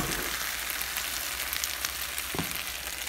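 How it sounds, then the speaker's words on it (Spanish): Ground tomato sauce with spinach and fava beans frying in a pan, a steady close sizzle with faint crackles and a single clack of a utensil near the end, no voices. "vamos a permitir que se sofría también nuestra salsa unos 2 minutos más"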